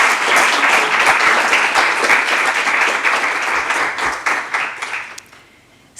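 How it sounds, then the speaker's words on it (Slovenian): An audience at a government award ceremony for Slovenians abroad gives loud, sustained applause that thins into scattered claps and then stops near the end. "Naj damo en aplavz."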